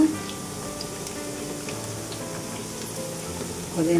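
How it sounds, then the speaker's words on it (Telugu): Ginger garlic paste, green chili paste and mint sizzle steadily in hot oil over cooked onions while being fried for eggplant biryani, a close, continuous frying hiss with light stirring throughout. "బాగా యాగనిస్తాం. పచ్చి వాసన చేయదాకా యాగనిస్తాం."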